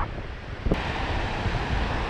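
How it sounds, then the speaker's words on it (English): Waves wash continuously onto a beach at Harbour Island in the Bahamas while wind buffets the microphone, a steady broadband roar with one brief gust-like bump, no voices. "So this is the beach area that we're at."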